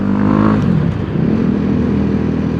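A BMW G 310 GS motorcycle engine runs loud and close during a test ride in Bali, Indonesia, with a steady throaty drone and a brief rev near the start, with no talking.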